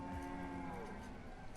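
Cattle lowing in the medieval city-building game Banished, a steady chorus of moos filling the whole moment over a busy layered game ambience, no voices.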